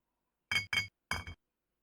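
A thrown item in an Unreal Engine medieval town lands with a glassy clink, bounces with a second clink, then strikes again harder, three bright impacts in quick succession against silence.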